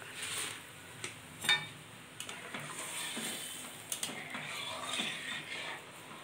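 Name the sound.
stirring mustard paste and hilsa in a pan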